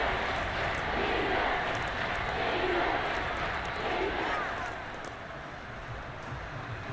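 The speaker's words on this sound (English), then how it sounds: "That just means this crowd's going to get even louder" Madden NFL video game stadium crowd during a goal-line stand: a loud, dense, continuous roar that swells and then eases slightly toward the end.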